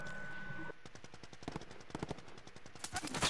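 In a video game, rapid automatic gunfire bursts out as a fast, evenly spaced string of sharp shots, loud and close, after a brief stretch of background noise.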